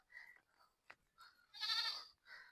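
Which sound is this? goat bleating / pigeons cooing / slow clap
goat bleating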